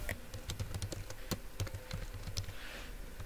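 Quiet, steady typing on a computer keyboard while HTML code is written, a continuous patter of key taps with occasional heavier strokes.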